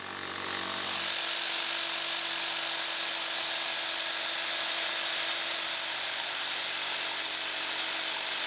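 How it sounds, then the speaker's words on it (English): A big hammer drill boring holes into a tiled wall, a harsh continuous rattling drone that rises up at the start and stays loud and steady throughout, close by with no talk. "I drilled the actual hole with the big hammer drill."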